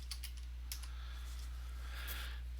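Quick bursts of computer keyboard typing, light close key clicks in short clusters over a steady low electrical hum, with no speech.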